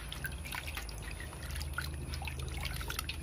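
Raw tripe is washed in water by hand, with a continuous patter of drips, trickles and small splashes close by.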